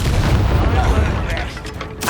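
A fiery incendiary spell cast in the video game Hogwarts Legacy: a dense, roaring burst of blast-like noise that stays loud and rumbling for about two seconds, then thins out before flaring again.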